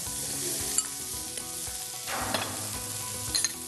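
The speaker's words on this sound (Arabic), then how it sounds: "نقلي فيهم البصله، نقلي فيهم الفليفله الحلوه، نقلي فيهم البندوره" Onions, sweet peppers and tomatoes fry in a pan with a steady, close sizzle, with a few brief stirring clinks at intervals and no talking.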